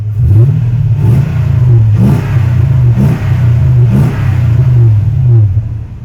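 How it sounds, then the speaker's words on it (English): A Toyota Tundra pickup's V8 engine revs loudly in repeated bursts, roughly one per second, each rising and falling with a deep throaty rumble and some clatter. "Let me just give her a little rev."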